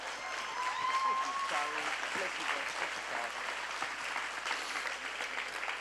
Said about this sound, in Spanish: recibimos con un caluroso saludo y un fuerte aplauso a nuestro amigo el pastor Chris